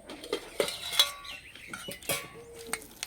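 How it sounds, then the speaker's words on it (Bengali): A lid comes off a cooking pot of soft semolina and sour-yogurt sweets, giving a few close, light metallic clinks and clanks with quiet pauses between them. "চাপাটা খুলে দেব।"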